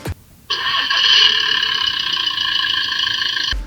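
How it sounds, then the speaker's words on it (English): A Peg Perego John Deere mini ride-on toy tractor's power-button engine sound effect revs up and holds a steady, bright electronic drone for about three seconds before cutting off abruptly. "There's nothing cooler than the tractor noise that comes along with the power button."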